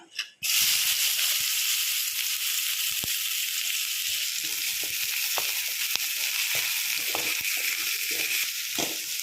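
Steady loud sizzling of chopped onion frying in hot oil, continuous hiss with occasional crackles and pops, close by, no talking.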